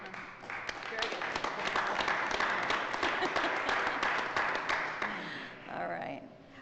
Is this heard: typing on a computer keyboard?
no